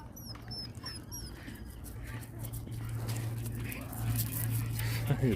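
Dogs out in a park in Las Vegas, a steady outdoor bustle with occasional bird chirps and faint dog noises mixed into continuous background sound, growing slightly louder toward the end.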